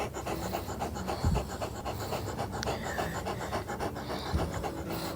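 Great Dane panting heavily outdoors on a warm 80-degree day after running around a backyard property, steady rapid breaths close to the listener with no talking.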